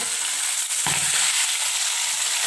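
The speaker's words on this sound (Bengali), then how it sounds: "এখানে হচ্ছে ইলিশ মাছ ভাজা" Hilsa fish frying in hot oil in a wok, a loud, steady crackling sizzle that fills the whole stretch, with a brief low clunk partway through and no voices.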